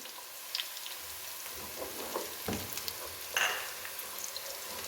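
Whole cumin seeds and a couple of cinnamon pieces sizzle in hot oil for aloo gobi, a rain-like crackle with sharp pops and a louder spatter burst partway through.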